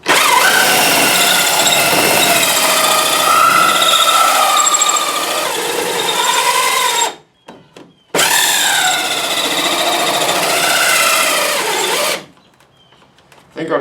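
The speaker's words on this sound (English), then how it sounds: "I think our drill's giving up." Loud power drill whining steadily as it bores a hole for Lexan windows on a second-generation Camaro, pitch wavering under load, cutting out briefly before revving again, then stopping.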